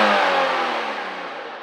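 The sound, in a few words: Nissan 350Z engine revving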